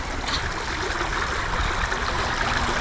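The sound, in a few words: flowing creek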